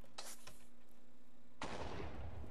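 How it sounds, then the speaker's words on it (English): A sudden loud Minecraft explosion bursts in after a few faint clicks and taps, then a rushing roar of noise sustains to the end. "That was a really loud explosion."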